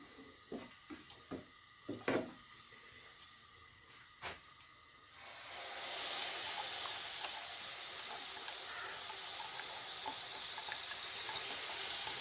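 Hot oil and ghee sizzling in a frying pan for papaya kheer, a steady broad hiss that rises suddenly and holds loud after a few soft clinks and taps.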